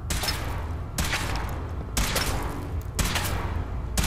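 Gunfire from a weapons test in the game Fallout 4 comes as four evenly spaced heavy bursts, each a loud blast with a trailing rumble, about one second apart.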